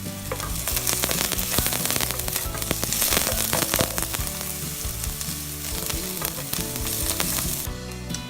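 Onion frying in a pot for chicken and corn soup, a steady close sizzle with crackling pops and occasional stirring scrapes running continuously throughout, no voices.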